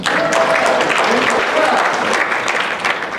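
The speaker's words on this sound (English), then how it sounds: "A round of applause for my family, please." An audience claps warmly for a speaker's wife and daughters, a dense burst of applause with a voice briefly heard in the middle and the clapping thinning slightly at the end.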